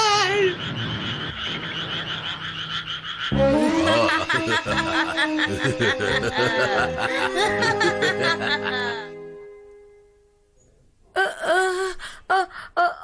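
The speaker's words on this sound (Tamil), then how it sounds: "அடடா, தவளைங்க தவளைங்க தவளைங்க." Cartoon frogs croak in a busy animated scene, a dense layered chorus with music over the first nine seconds, then a lull and a few sharp bursts of croaks near the end.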